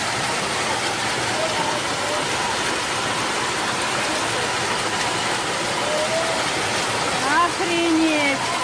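A heavy hailstorm pounds steadily in Sevastopol, a dense, loud roar of impacts that continues without letup, with voices faintly audible underneath.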